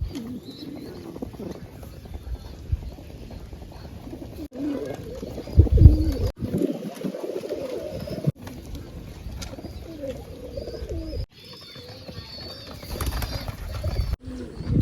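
Pigeons being tamed to perch on a hand coo in a low, throaty murmur with bursts of wing flapping, a loud flurry near the middle and steady rustling and muffled thumps throughout.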